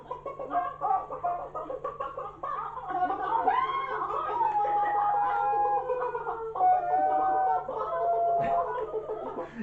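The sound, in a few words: people imitating chickens clucking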